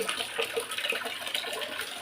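Water runs steadily from a tap into a large basin in a home washing area, a continuous splashing hiss with no voices.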